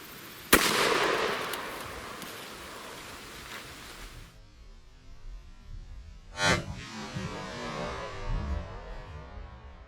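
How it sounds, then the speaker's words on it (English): A 12 gauge shotgun fires birdshot at a target 5 yards away: one sharp, loud blast followed by a noisy rumbling tail, then a fainter thud a few seconds later. "Let's put this birdshot in it at 5 yards."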